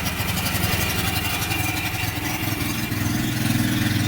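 A worn-out Heathkit Boonie Bike minibike engine runs steadily, a buzzy small motor idling and revving close by with a rough, continuous drone and a slight rise near the end.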